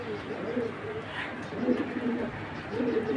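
Belgian collection pigeons coo in soft, repeated low calls spaced a second or so apart, close by against a mild background murmur.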